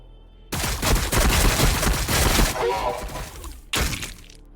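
Heavy gunfire and explosive impacts in the Warhammer 40K: Battlesector strategy game, a dense roaring volley lasting several seconds, then a second short blast near the end, with a voice calling out over the battle.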